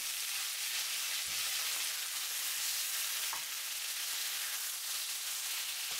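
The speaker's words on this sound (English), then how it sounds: "Spread them well. And let sear for 1 minute." Marinated chicken pieces searing in a hot pan, a steady bright sizzle and hiss running throughout with a few faint clinks, close and continuous with no voices.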